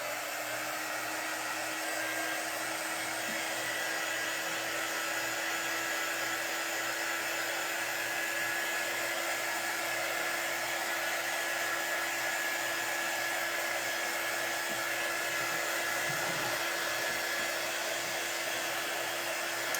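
A hair dryer blows steadily and loudly on a wooden cutting board, a constant whirring roar that holds unbroken for the full stretch with no voices.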